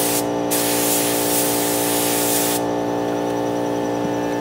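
Spray gun laying a tack coat of paint onto a hit-and-miss engine, a steady close hiss that runs continuously, briefly interrupted near the start, over a constant mechanical hum.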